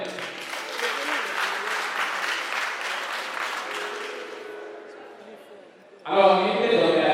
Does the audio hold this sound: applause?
yes